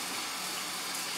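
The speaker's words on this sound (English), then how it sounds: "So you just want to make sure you rinse all the dirt" Tap water streams steadily while dirt is rinsed off food, a continuous close hiss and gush with no breaks and no voices.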